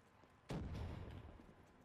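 A single sharp gunshot burst in Call of Duty Black Ops 3, a sudden loud crack followed by a booming decaying tail, with no talk over it.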